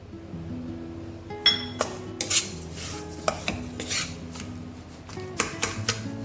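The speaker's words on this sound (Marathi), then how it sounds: "तर आता हे व्यवस्थित मिक्स करून घेते." A spoon works mango peda mixture of mango pulp and saffron milk around a pan, giving irregular close clinks, taps and scrapes of metal on metal over a low background hum, with no talking.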